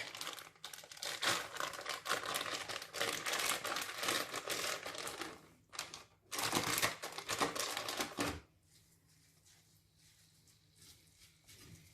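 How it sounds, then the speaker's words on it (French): Cassava leaves for saka saka (pondu) crumpled by hand, loud dense crinkling and rustling bursts close by, pausing briefly near six seconds and then stopping, with quieter faint handling afterward. "Je déboule de feuilles de manioc."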